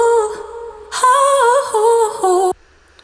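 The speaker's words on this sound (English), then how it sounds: "I chopped up a sample loop that I got somewhere on Splice. The original one sounds like this." A vocal sample loop from Splice, heard as its original unedited version: a sung, melodic voice phrase with a softer opening note, then a louder run of gliding, sustained syllables that cuts off sharply near the end.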